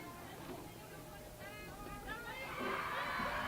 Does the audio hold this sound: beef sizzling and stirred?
no